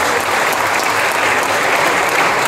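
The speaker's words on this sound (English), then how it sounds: "Round of applause." Dense, loud audience applause fills a Comic Con Q&A hall with sustained, even clapping from a large crowd and no pauses.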